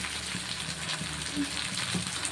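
Onions and tomatoes frying together in a pan while cooking tawa egg, a steady close sizzle with a watery hiss that runs throughout at moderate level.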